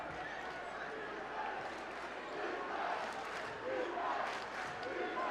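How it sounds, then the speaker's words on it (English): A packed gym crowd at an Ohio high school basketball game roars steadily, a dense, loud wash of cheering and shouting that stays constant with slight surges, with no single voice standing out. "the crowd's getting loud"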